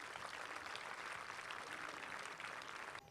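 Sustained audience applause at the Delhi Classical Music Festival for a sarod maestro, a dense, steady clatter of many hands that holds evenly for about three seconds before cutting off abruptly.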